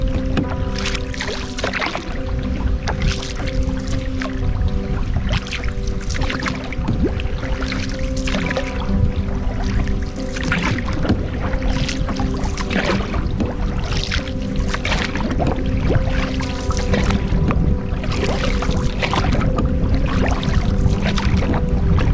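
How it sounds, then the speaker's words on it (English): Canoe paddling on a river in the Arctic watershed wilderness, with rhythmic paddle strokes and splashing water repeating steadily and close throughout, alone with no voices. "I've been pretty much beast paddling"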